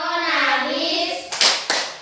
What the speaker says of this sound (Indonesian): Tepuk PPK.